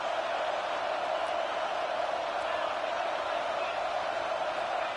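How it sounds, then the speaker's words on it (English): Steady roar of a stadium crowd at a college football game, Alabama against Florida State, a dense unbroken wash of massed voices holding at one level throughout. "The roar of the crowd trying to fuel this defense to keep them pinned in their own end."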